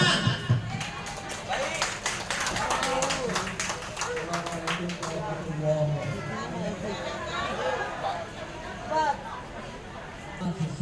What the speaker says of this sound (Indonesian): Inilah Bapak Panjar, tepuk tangan.